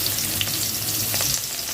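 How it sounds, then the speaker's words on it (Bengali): Marinated chicken fries in hot oil in a wok with a loud, continuous crackling sizzle and no voices. "আমি সেটাই জাস্ট কড়াইয়ে দিয়ে দেবো তেলটা গরম হলে,"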